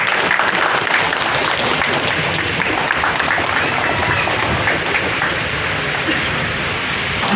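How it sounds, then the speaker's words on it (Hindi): Thunderous, sustained crowd applause at a local political gathering welcoming an MLA over ward road problems: dense, steady clapping that fills the whole stretch without a break. "जोरदार तालियांचा गडगडाट झाला पाहिजे।"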